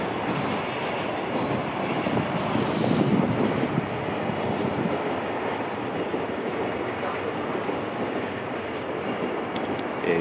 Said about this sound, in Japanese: 今上りの貨物列車通過しております